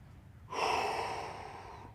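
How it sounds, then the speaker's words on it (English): A single deep breath taken during a stretching routine, a soft, close airy exhale that swells quickly and then slowly fades over a couple of seconds. "Breathing deeply."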